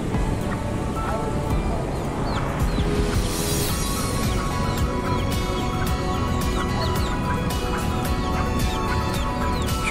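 Kampong chickens, a hen with two chicks, cluck and peep amid steady outdoor street noise in Singapore's Chinatown, with sharp chirps scattered throughout.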